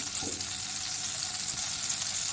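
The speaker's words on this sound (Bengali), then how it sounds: "আচ্ছা ওই গ্যাসে ওই বাটারে পেঁয়াজ দিলাম" Onions frying in butter in a pan on a gas stove for paneer butter masala, giving a steady, close, even sizzle that holds throughout with no talking.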